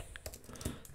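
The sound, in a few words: typing on a computer keyboard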